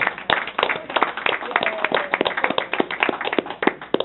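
A board meeting audience claps for retiring staff in a brisk, moderately close round of applause, the sharp claps keeping an even, sustained rhythm throughout.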